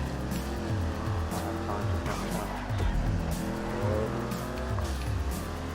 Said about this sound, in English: Turbo sounds awesome in this car.